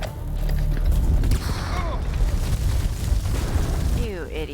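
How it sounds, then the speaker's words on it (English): A grenade explosion inside a cave in House of Ashes, a loud rumbling boom with a long echoing tail and crumbling debris, followed by shouting voices. "throw a grenade inside a cave"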